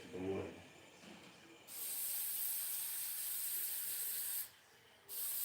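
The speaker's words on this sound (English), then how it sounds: "So I'm going to spray the back of the stencil." An aerosol adhesive can sprays the back of a reusable stencil for a wood sign, giving a long, steady, close hiss, a brief pause, then a second hiss.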